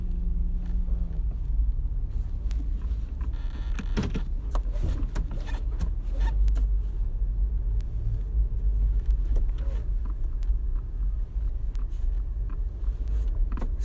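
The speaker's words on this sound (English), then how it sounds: "I'm just gonna keep maybe driving to a different spot" Car interior while driving, a steady low engine and road rumble running throughout with a few faint clicks and knocks, no talking.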